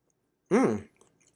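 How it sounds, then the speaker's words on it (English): A single bite of a blueberry muffin with a crunchy sugar topping, one short close crunch and chew that quickly fades to faint mouth sounds. "I like the crunch from the sugar"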